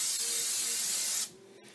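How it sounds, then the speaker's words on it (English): A short, loud burst of aerosol cooking spray into a crock pot hisses for about a second, then cuts off, leaving quiet room noise. "you're going to spray it with some cooking spray"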